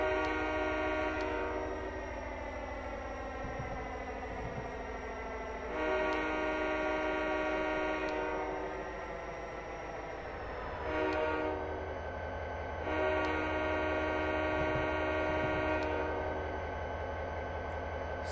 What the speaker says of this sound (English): That's a typical whistle sequence for passing a railroad crossing in North America